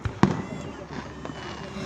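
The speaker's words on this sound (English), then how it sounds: "There's so much fireworks right now." Fourth of July fireworks go off in a big display, with a sharp nearby bang and then a couple of weaker pops and a rumbling echo in open air.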